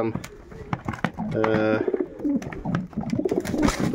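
Pigeons coo nearby in a loft in soft, throaty repeated calls, with someone talking over them.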